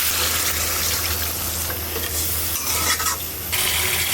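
Pointed gourd stirred and sautéed in a spiced curry, a dense continuous sizzle with scraping stir strokes, close and fairly loud, with no talk.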